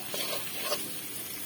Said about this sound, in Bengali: মশলাটা প্রায় ভাজা শেষ, সুন্দর মতো একটা কালার চলে এসছে